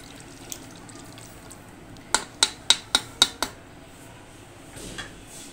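Homemade mango squash is shaken in a container, giving a quick run of six crisp, evenly spaced knocks and sloshes, close and fairly loud against a quiet room.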